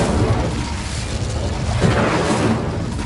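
The Incendio fire spell in Hogwarts Legacy bursts out as a loud, broadband whooshing blast, swelling and rumbling across the whole moment, with a second surge near the middle and no talk over it.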